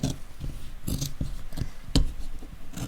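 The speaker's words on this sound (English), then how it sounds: "I like to use a pair of scissors for this, as the foam and fabric are awful thick." Scissors cut through thick foam and fabric for a contoured head cover, making a series of close, crisp snipping and rasping strokes in an uneven rhythm, with no talking.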